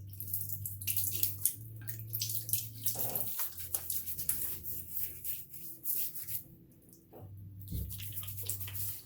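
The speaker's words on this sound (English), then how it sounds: "So let me go ahead and get this blue water on my face." Blue-tinted water splashed by hand onto a face before a wet shave at a sink, close and wet with repeated slaps and trickles over a steady low running-tap hum.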